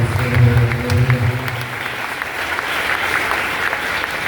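Applause from an audience at a gathering honouring fathers, a dense round of clapping hands that carries steadily throughout, loud and close, with a voice under the start.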